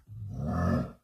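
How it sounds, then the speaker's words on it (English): A single zombie grunt from Call of Duty, a low guttural growl that swells and cuts off after about a second, heard alone and close. "Let's import the zombie sound."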